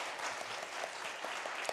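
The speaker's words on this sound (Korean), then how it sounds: "아침 일찍 나와서 너무나 수고하시고 고생하시는 우리 베델 찬양대 위해서 우리 격려의 박수 해주시겠습니까?" Church congregation applauding a Bethel choir during a Sunday worship service, a steady wash of many hands clapping at moderate distance, fairly soft and even throughout with no talk over it.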